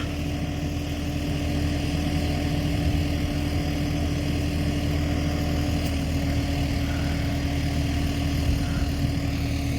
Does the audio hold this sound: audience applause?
no